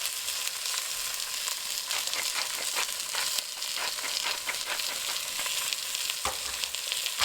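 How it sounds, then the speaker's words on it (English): Ground beef frying with onions in a pan for chili, a dense continuous sizzle with frequent scraping and stirring clicks as the meat is broken up, close and steady with no talking. "And now I'm going to break up my ground beef and mix it around with my onions"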